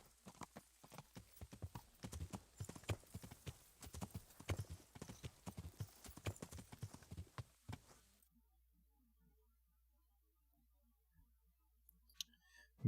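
Rapid clip-clop of horse hooves galloping in the video game Kingdom Come: Deliverance, loud and close, with a whinny in the mix, then it cuts to near silence with faint clicks.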